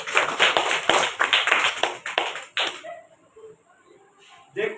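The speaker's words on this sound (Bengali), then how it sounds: "ভালো লাগছে? তাহলে হাততালি দাও।" Children clapping together in a classroom, a burst of rapid, dense claps for a couple of seconds that stops abruptly, followed by quieter room sounds and a short return of noise at the end.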